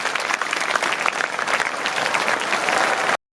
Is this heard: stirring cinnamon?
no